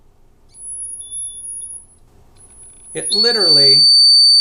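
A water leak detector triggered by a finger across its probes emits a piercing high-pitched alarm tone, starting faint and intermittent, then sounding continuously and loudly while a person speaks over it.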